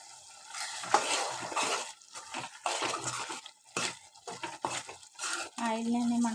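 Tomatoes cooking in hot oil with a light sprinkle of turmeric, a soft sizzle broken by scraping stirs and clinks of a spoon against the pan, close by, under someone talking.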